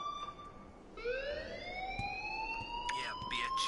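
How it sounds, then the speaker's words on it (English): In the video game Life Is Strange, an electronic alarm sounds as a steady, rising, siren-like tone that holds on and keeps ringing against faint background noise. "please turn off that alarm since that's your job"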